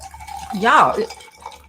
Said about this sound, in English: Gonna pour me for a little Coca-Cola